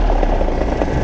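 Paramotor engine revving up before a tandem powered paragliding takeoff, a loud, steady buzzing propeller drone heard close and alone over a brief moment.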